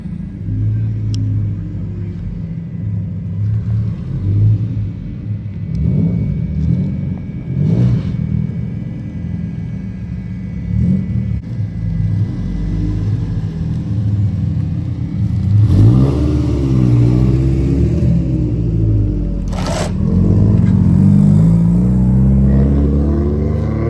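A car engine rumbles and revs throughout as it rolls down a hill at a night car meet, rising and falling as it accelerates, loud and fairly close with a deep, steady growl.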